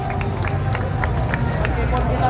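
Student protesters at a street demonstration in Indonesia clap together, producing scattered sharp claps over a constant low crowd murmur.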